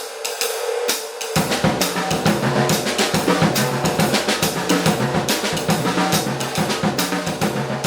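A jazz drum kit played in triplets, with bass drum notes driving the fill as it moves around the toms and snare, continuous and loud from start to finish, with no talk.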